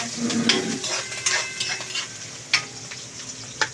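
Chili peppers sautéing in a pan for Bicol Express, a loud close sizzle broken by repeated metal spoon scrapes and clanks against the pan as it is stirred.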